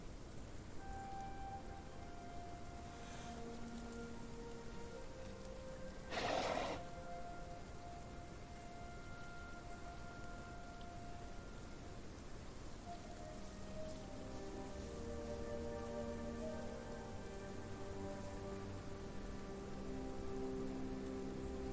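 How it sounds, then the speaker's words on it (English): Rain in the Path of Titans game falls as a soft, even wash of steady noise, with faint tonal game music or ambience drifting over it and a brief swell partway through. "Thankfully, the rain is not coming down as hard"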